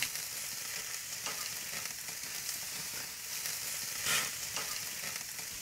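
Lamb chops sizzle steadily on a barbecue grill, a continuous close crackling hiss with brief louder spits, heard alone.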